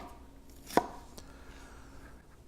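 A kitchen knife makes one sharp, loud chop through food on a board, then a much fainter tap a moment later, with a quiet room behind it.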